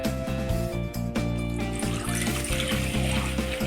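Excess water is poured off settled wheat starch, made for wheat kurdai, giving a steady close splash of liquid pouring continuously throughout with no talk.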